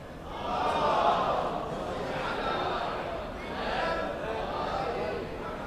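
A large crowd at a London gala dinner recites a louder salawat in unison, a broad swelling chorus of voices rising and falling in waves across the hall.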